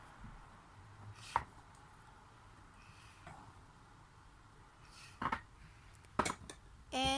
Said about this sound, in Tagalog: didikdikin lamang po natin siya, saka po natin ito i-chop